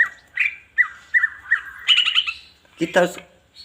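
A caged green leafbird in breeding condition sings a run of bright, whistled chirps and warbles close by, ending in a harsher burst of rapid notes.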